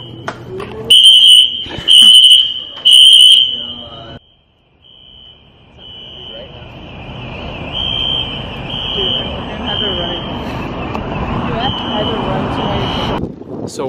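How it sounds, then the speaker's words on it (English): A fire alarm blares with loud, high-pitched pulsed beeps in three bursts during an impromptu fire drill, while a person talks over it. Then comes a long stretch of steady wind noise with a continuing alarm tone. "Fire alarm!"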